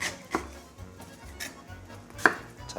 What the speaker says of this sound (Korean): 배도 쉽게 갈 수 있도록 잘게 썰어서 준비해 주세요